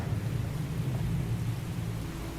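A storm sound effect of heavy rain and thunder at sea in a horror story, a steady low rumble with a constant hiss of rainfall and no voices.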